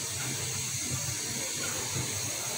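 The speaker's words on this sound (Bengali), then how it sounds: "সিদ্ধ হতে থাক।" Beef and potato curry with turmeric, chili, ginger, garlic, onion and oil simmering in a pot, a steady soft hiss and bubbling that stays even throughout.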